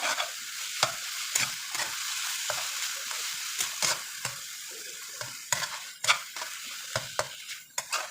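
Pancit noodles are stirred in a frying pan over a steady loud sizzle, with repeated scraping and clacking of the utensil against the pan at an uneven rhythm, and no talk.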